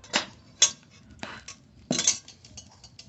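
A metal wok clanks onto a clay stove before fish is cooked, giving a few sharp metallic clinks and clatters spaced across a few seconds, fairly close and alone.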